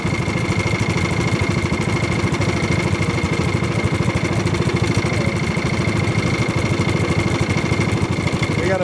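A restored Silver Fox go-kart with a Duramax engine runs on a trail ride, giving a steady, loud, buzzing drone that stays close and unbroken throughout.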